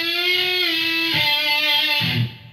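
Electric guitar plays a riff: sustained harmonic notes that shift pitch around 1.2 and 2.1 seconds with pick attacks, clear and close, then ringing out and cutting off near the end, with no talking.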